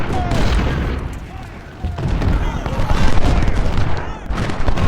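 Battle of Shiloh video game combat: heavy artillery booms and dense rolling gunfire roar continuously and loudly, with a brief dip before the barrage surges again.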